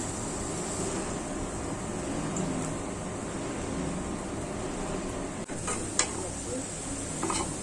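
Onions frying in hot oil in a wok in a home kitchen, a steady soft sizzle and hiss with occasional stirring clatter and a couple of sharp clinks from utensils.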